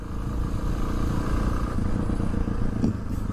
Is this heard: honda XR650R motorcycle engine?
yes